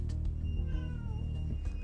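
A cat meows repeatedly inside a video game during a LAN party session, the calls sitting over a steady low in-game hum and carrying clearly near the listener without any voices.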